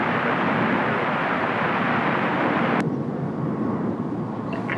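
An airplane takes off from runway 30, its engine roar loud, broad and steady throughout, easing slightly after a sharp click partway through, with no voices over it.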